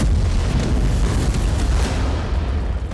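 Explosions from missile strikes in the Israel–Iran conflict, a loud, continuous booming rumble that fills all three seconds without clearly separated blasts.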